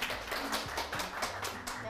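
A studio audience at a Korean lecture show claps to welcome a publishing agent guest speaker onstage; the scattered clapping runs under a talking voice.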